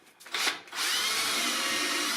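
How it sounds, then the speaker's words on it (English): A cordless reversible variable-speed drill whirs up after a few brief starts, then runs steadily and fairly loud on its own for the rest of the moment. "This cordless drill, reverse, variable speed is not really important, but reversibility really is."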